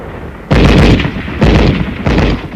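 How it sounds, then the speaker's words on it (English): Loud machine gun fire in deep snow and extreme cold during 1950 winter combat: three heavy, booming bursts, each lasting about half a second, separated by short gaps. "Our machine gun covers the advance."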